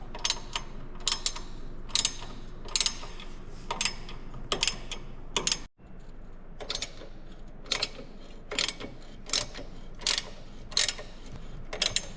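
A ratchet undoes T40 Torx bolts on a 2024 Harley Touring handlebar, giving repeated short bursts of close, crisp clicking at a steady pace, with a brief pause partway through.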